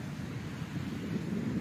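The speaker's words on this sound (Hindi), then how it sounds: "हल्की हल्की ठंडी ठंडी हवा चल रही है" Light, cool wind blowing by the sea after rain, a steady low rush with a soft, continuous roar close to the microphone and no voices.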